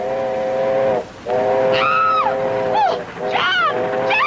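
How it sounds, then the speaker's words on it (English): A steam train's whistle sounds loud and close in long wailing blasts that bend in pitch as the locomotive approaches, with brief gaps between the calls, in a 1937 film scene. "There's a train coming!"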